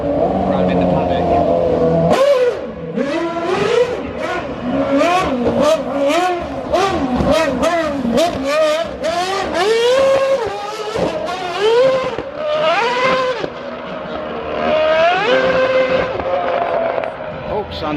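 A Red Bull Formula 1 car screams past repeatedly at a street demonstration run in Milton Keynes, sharp rising and falling revs with gear changes, loud, with crowd voices and talk mixed in.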